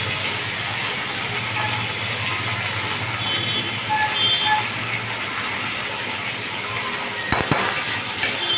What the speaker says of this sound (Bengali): গোবিন্দভোগ চালটা ধুয়ে রেখেছিলাম ওটাকে এবার ছেড়ে দিলাম তেলের মধ্যে